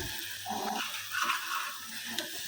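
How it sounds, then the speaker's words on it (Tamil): Water from rinsing a blender jar poured into a pan of beetroot and onions being sautéed, a close splashing pour over a sizzle that lasts about two seconds, with no talking. "ஜாரை அலசி அந்த தண்ணியும் இதில் சேர்த்துக்கிறேன்."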